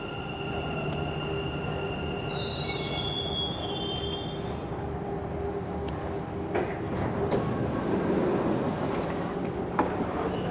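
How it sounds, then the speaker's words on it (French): A Dubai metro train rumbles along with high-pitched wheel squeals rising over the steady rolling noise, heard from inside the carriage. "Nous sommes dans le métro."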